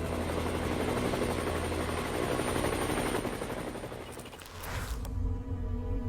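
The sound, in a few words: Boeing CH-47 Chinook helicopter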